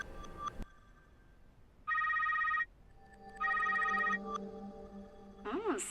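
A phone rings in the video game Sekrit Whirled: two long bursts of bright, buzzing electronic ringtone separated by a pause, clear and steady over a faint background hum.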